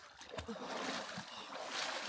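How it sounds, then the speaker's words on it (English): Someone splashes while plunging into cold water in the Nepal Himalaya, giving a faint, continuous watery splashing and rushing with a few soft thuds, heard from a short distance. "He's doing a few more plunges."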